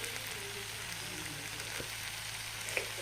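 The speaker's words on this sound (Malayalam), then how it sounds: "ഇതിലേക്ക് നമുക്ക് പൊടികളൊക്കെ ഇടാം ആദ്യം മഞ്ഞൾപ്പൊടി" Onions sautéing with turmeric powder in a pan for an egg curry, a steady soft sizzle throughout with faint stirring taps.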